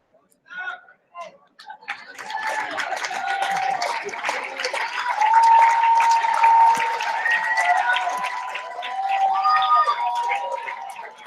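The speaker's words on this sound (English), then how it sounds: "Fans starting to show some noise, standing and clapping" Baseball fans at a Michigan versus Rutgers game stand, clap and cheer as one steady crowd roar that swells and holds, after a few isolated claps at the start.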